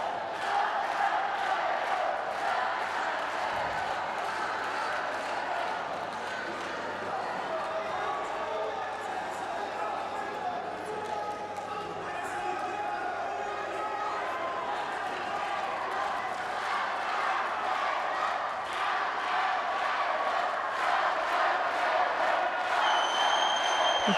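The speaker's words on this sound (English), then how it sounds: "You can hear the crowd" A full-house arena crowd at the European Youth Olympic Festival in Tbilisi roars in a continuous wash of cheering and shouts, with a commentator talking over the noise.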